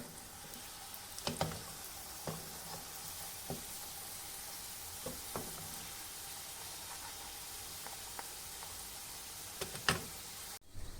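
Envelope börek pastry puffing up as it fries in a pan, a steady close sizzle and crackle with occasional sharper pops and spits, no talking.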